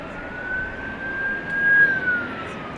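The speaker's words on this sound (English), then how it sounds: "You may hear and now see an emergency vehicle." An airport fire truck siren at night at DFW, a steady mid-pitched wail held at moderate distance, slowly swelling a little louder toward the end.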